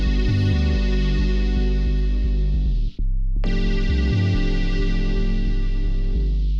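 Warm lo-fi VHS-style synth chords layered over a deep sub bass in a UK garage production, sustained and loud, cutting out briefly midway before the chords and bass return.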